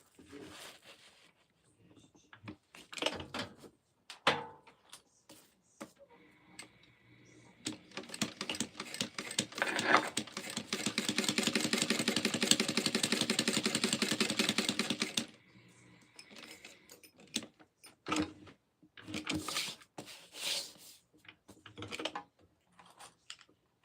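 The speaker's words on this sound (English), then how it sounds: "we are going to sew a box all the way around" Sewing machine stitching a box seam on an Ava shoulder bag, a rapid mechanical chatter for several seconds mid-clip, framed by quiet fabric handling and bursts of speech.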